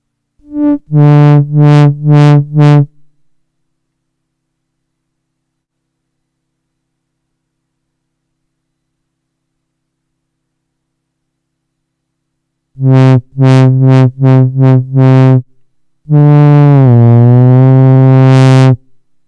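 Behringer Neutron analog synthesizer oscillators sound in short buzzy tonal bursts, a few quick pulses, a long silence, then more pulses and a sustained tone whose pitch slides while being tuned by ear against oscillator 1.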